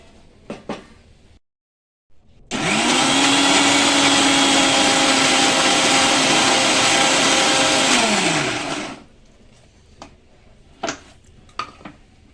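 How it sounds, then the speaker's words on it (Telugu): A mixer grinder grinding tomato chutney whirs loudly and steadily for about six seconds, then winds down, with quiet kitchen clatter before and after. "ఇలా మిక్సీ పట్టేసుకోవాలి మొత్తం."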